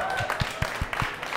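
Audience at a Mexican comedy show clapping in a quick, even rhythm of sharp, distinct claps, with a faint voice at the very start.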